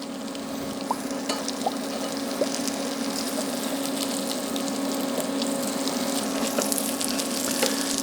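Crab cakes fry in a hot pan with a steady, close sizzle and scattered small pops and crackles throughout, no voices over it.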